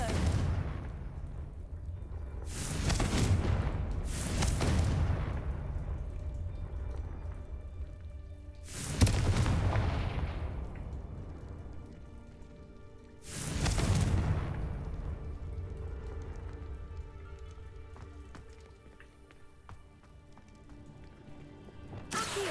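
Spell explosions from the Confringo fire spell in the video game Hogwarts Legacy: four loud booming blasts with rumbling tails, two close together early, then two more spaced apart over a steady low background.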